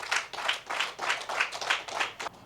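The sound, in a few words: audience applause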